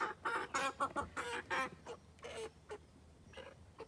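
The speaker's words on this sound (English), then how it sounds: "The roosters are becoming rambunctious" Roosters clucking in a busy burst of short, harmonic calls, several overlapping at first and then thinning to scattered clucks.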